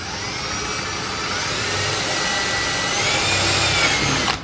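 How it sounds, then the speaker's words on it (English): An electric drill fitted with a 1/4 inch bit bores holes, giving a continuous loud whirring grind that holds steady and swells slightly before cutting off at the end. "So I have a 1/4 inch drill bit in my drill."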